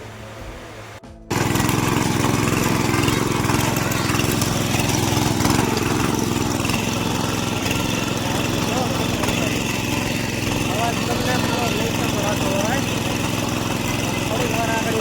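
A mini tractor's engine kicks in after a moment of quiet and runs loud and steady at close range, a constant rattling drone that holds without change to the end.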